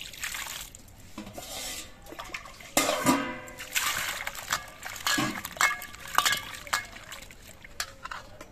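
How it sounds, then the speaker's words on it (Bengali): Cut vegetables being washed in a bowl of water: sloshing, splashing and light clatter of pieces and the bowl, close-up, in irregular bursts. "এবার সবজিগুলো ধুয়ে নিচ্ছি।"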